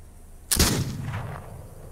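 A single loud gunshot from the video game This Land Is My Land cracks out sharply, followed by a rolling echo that fades over the next second, with no talk over it.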